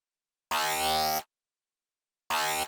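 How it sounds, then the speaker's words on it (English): Two bursts of gritty, buzzing synth bass, each starting abruptly with a hard attack, the first lasting under a second and the second cut short, with silence between. "when making sort of dirty bass sounds is you really want to change the attack so it's a bit steeper"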